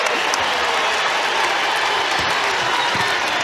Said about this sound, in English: the fans inside Colonial Life Arena still getting loud and into this one